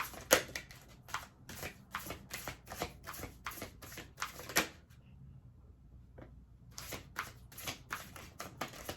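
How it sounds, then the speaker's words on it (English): Tarot cards shuffled by hand in steady rapid riffling bursts, close and crisp, pausing briefly near the middle before resuming; no talking. "I mean, y'all see me here shuffling."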